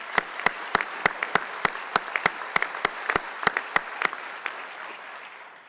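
Scattered audience applause at the 2016 Best Ranger awards ceremony, a few hands clapping sharply and unevenly at close range, slowly thinning out toward the end.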